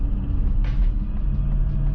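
Steady low engine rumble from a Porsche Cayenne Turbo's 4.5-litre twin-turbo V8, driven gently at low revs, continuous and close with a brief hiss near the middle.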